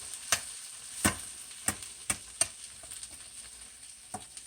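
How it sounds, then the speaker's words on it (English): Shrimp and mushroom rice stir-frying in a pan, with a soft sizzle under sharp, irregular clinks and scrapes of a utensil against the pan, close and moderately quiet, no talking. "we're going to have some good old stir-fried shrimp and mushroom rice"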